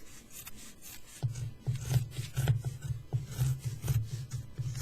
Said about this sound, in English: Just going to turn it over and trim that excess off.